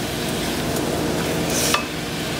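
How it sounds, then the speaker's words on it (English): Pasta stirred around a pan with balsamic and garlic, a soft continuous sizzle and scraping shuffle up close, ending in a brief sharp clink of utensil on pan. "Stir it all up."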